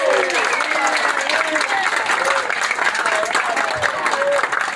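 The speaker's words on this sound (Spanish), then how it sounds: "El aplauso para él." Steady crowd applause greets the district mayor of Ate at an outdoor civic ceremony for street resurfacing, a dense continuous clapping with faint voices mixed in.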